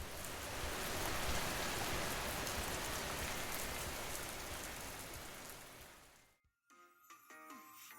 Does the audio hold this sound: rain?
yes